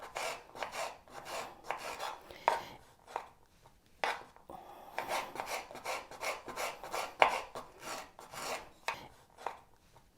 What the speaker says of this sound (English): when you peel your orange, you're gonna slice the peel like that